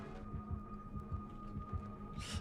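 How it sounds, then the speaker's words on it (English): A bugged heartbeat effect in The Casting of Frank Stone plays steady, low, thumping double beats in an even rhythm under a constant electronic hum, with no voices. "why is the heartbeat noise playing during this scene?"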